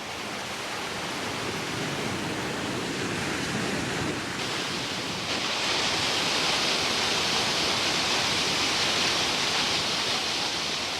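A steady, full roar of Melincourt Waterfall in the Neath Valley fills the whole stretch, constant and broadband with no voices, slightly brighter and louder toward the end.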